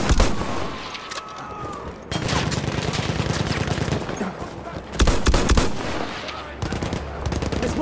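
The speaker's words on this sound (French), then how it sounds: "Attention, mitrailleuse." Rapid automatic machine gun fire in a World War-era first-person shooter, loud bursts of rattling shots with short pauses between volleys.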